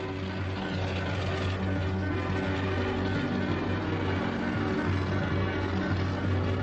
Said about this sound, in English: Eyewitnesses on the ground spot the two fighters heading down the Somme Valley.